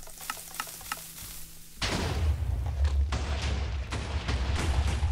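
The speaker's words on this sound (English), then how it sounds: "Yeah, this is one explosion." A TNT cannon blast in Minecraft: after a short stretch of faint clicks, one loud explosion bursts in, followed by rumbling, crackling debris that runs on to the end.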